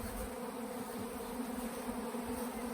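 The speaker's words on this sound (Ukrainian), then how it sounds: "От тут заходить якийсь рій, ось тут заходить якийсь рій." Honeybees swarm into nucleus hives at an apiary, giving a constant dense buzzing drone of many insects close by, steady and unbroken throughout.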